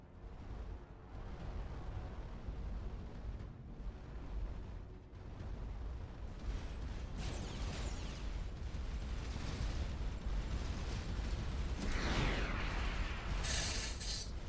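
Missile explosions in the space video game Starcom: Unknown Space, heard as a dense, rumbling roar with bursts that swell louder toward the end.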